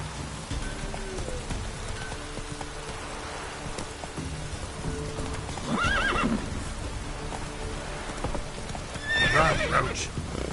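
Roach, the horse in The Witcher game, clip-clops steadily over a rain-soaked backdrop, with two short neighs rising above the hoofbeats near the middle and the end.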